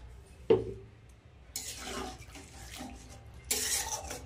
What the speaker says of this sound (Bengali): এবার আমি জল দিয়ে দেবো পরিমাণ মতন